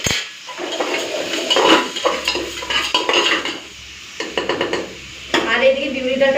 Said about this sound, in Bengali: এরপর চলুন আলুটাকে একটুখানি হালকা ভেজে নিই।